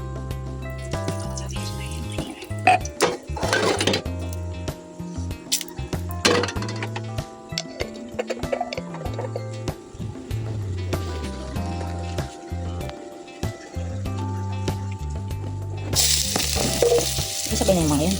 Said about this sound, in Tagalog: Magigisa na tayo. Yung cubes. Magigisa na tayo. Gagamit lang ulit tayo ng used oil.